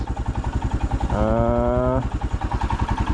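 A Royal Enfield Himalayan motorcycle idles nearby with a steady, loud, low thumping pulse, and a brief smoother tone rises over the engine for about a second partway through.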